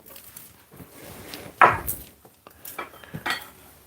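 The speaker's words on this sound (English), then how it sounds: "The bay leaf, I like to break them up" Dried bay leaves snapped and broken apart by hand while preparing a Jamaican all-purpose meat seasoning, giving a few quick crisp crackles and one louder crunch close to the microphone, with light handling noise between.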